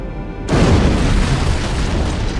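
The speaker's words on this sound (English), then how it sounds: "I'd guess an antimatter charge." An antimatter charge detonates aboard a ship in Halo: Combat Evolved, a sudden loud boom that breaks from quiet into a sustained, rumbling roar filling the rest of the moment.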